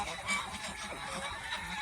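Geese honking on a goose farm, overlapping nasal honks from a flock at middle distance, continuous through the short stretch.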